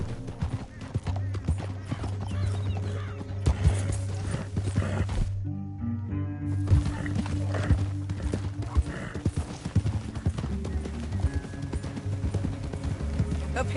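Horse hooves clip-clop in Red Dead Redemption 2, a steady galloping rhythm under a dense game soundtrack and ambience, with a brief drop-out midway and an occasional whinny.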